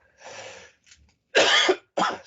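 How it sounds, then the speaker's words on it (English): A person coughs several times in quick bursts, close to the microphone, with short silences between the harsh, raspy coughs. "Sorry, I've got a cough."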